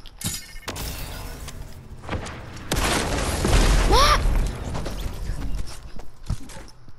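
Quad launcher rockets in Fortnite land as a string of heavy booming explosions, loud and close, with a sustained rumbling blast in the middle and scattered impacts around it.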